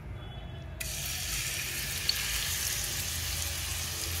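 Grated raw papaya going into hot ghee for halwa, bringing a sudden jump into a steady hissing fry that carries on evenly to the end, close and fairly quiet, with no speech.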